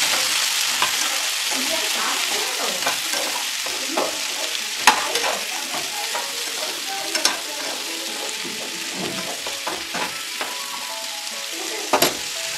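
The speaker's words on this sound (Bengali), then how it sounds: "এর মধ্যে আমরা কেটে রাখা আলুগুলো আর বিটগুলো দিয়ে দেবো, দিয়ে সাথে আমরা ভালো করে একটু নেড়ে ভেজে নেবো।" Chopped potatoes and beetroot fry in hot oil while being stirred, a constant sizzle broken by repeated scraping and clacking spatula strokes against the pan, close and busy throughout.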